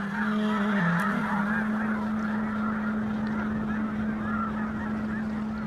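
A vast flock of red-breasted geese taking off together in the Danube Delta, a dense continuous chorus of honking calls from many birds, loud and steady with no talk.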